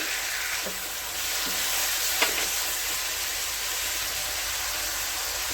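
Steady sizzling of prawns with turmeric frying in a pan, a constant bright hiss with a few soft stirring scrapes, no voices.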